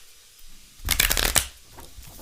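One quick riffle of a tarot card deck, a crisp fluttering burst up close, then a few soft taps as the cards settle.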